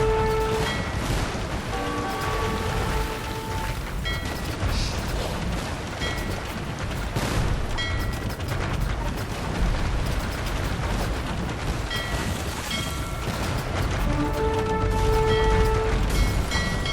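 Booming cannon shots from galleons and rumbling explosions roll continuously over a dense naval battle din in a video game, loud and layered, with tonal game sound effects chiming in.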